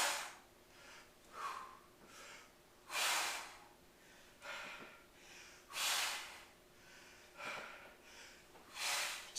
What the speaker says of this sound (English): I want to be breathing out as I push up.